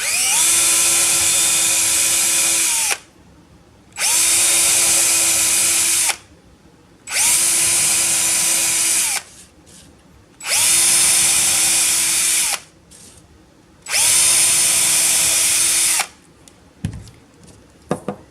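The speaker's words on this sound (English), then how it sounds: "I'll take the drill and I'll drill the holes like this." A power drill whines steadily in long bursts drilling holes for a wire sculpture, five runs of several seconds each separated by short pauses, loud and close with no talking.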